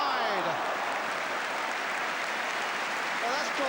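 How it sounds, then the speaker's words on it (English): Arsenal fans applauding in a stadium during a football match against Bristol City, a sustained distant ripple of clapping that swells slightly toward the end beneath crowd murmur. "that's drawn some applause from the Arsenal fans"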